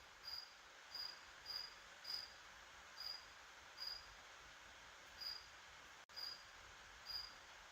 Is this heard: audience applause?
no